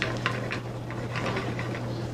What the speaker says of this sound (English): So get a nice little sizzle there.